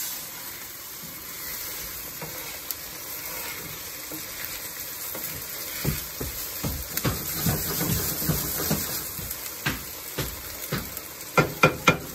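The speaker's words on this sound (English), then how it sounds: "As we're stirring, I'm just scraping the bottom a little bit so we don't have anything stuck." Steak hash sizzling and frying in a pan, with a steady hiss broken by repeated scrapes and clacks of a utensil stirring and scraping the bottom, growing busier toward the end.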